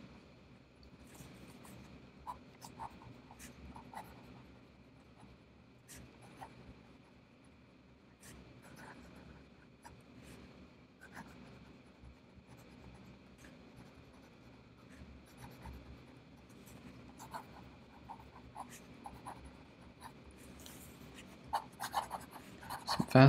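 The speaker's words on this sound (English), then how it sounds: "So you'll notice that it's skipping when I'm writing fast." A fountain pen scratches fast across paper, a faint, close scritching with quick irregular strokes and small taps, growing slightly louder toward the end; no talk.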